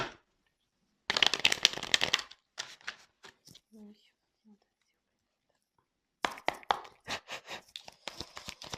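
Tarot cards are shuffled and drawn by hand in a reading, heard as close, loud bursts of riffling and flicking with quiet gaps between them. A soft voice speaks briefly in the middle.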